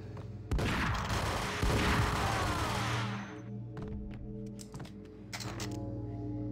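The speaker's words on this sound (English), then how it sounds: "Time to use Uzis." Rapid bursts of Uzi submachine-gun fire in the Max Payne shooter game, dense and loud for the first three seconds, then scattered shorter shots and impacts over low background music.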